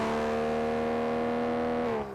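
A Bentley Continental GT engine holds a smooth, steady hum with layered harmonics, refined rather than growling, then eases off near the end.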